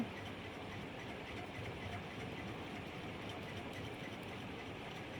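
A metro rail train in Bangladesh gets underway after its doors close, heard from inside the car as a steady low rumble and hum that holds evenly throughout, with no talking.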